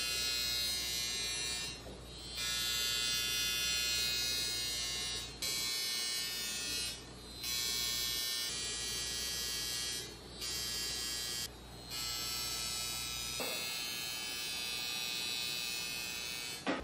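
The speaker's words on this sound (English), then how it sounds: "And that is the high frequency wand." A high frequency facial wand buzzes with a steady, bright electric whine, close and loud, cutting out briefly several times as it lifts from the skin and then resumes.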